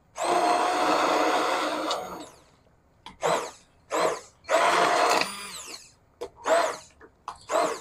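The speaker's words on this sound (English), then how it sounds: "What's nice about the stick blender is I can just sit here" A stick blender purees a thick carrot and ginger soup, first in one long steady whir, then in a string of short, loud bursts separated by brief pauses.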